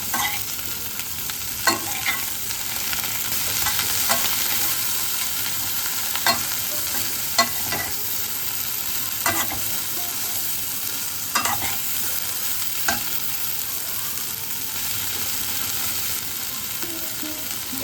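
Whole small okra stir-fry with fried onions in a pan, giving a continuous loud sizzle broken by repeated clacks of a spatula stirring against the pan at irregular intervals.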